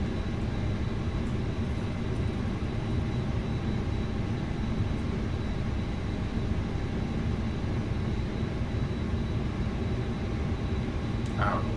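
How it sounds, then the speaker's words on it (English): Airliner engine number one spooling up during pushback in Microsoft Flight Simulator 2024, a steady broad jet roar with low rumble that holds loud and even throughout, with no talking. "We'll go with engine number 1 start as we push back."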